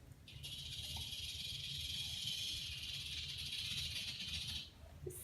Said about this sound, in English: A rattlesnake sounds like this.